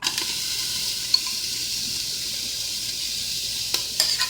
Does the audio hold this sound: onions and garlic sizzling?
yes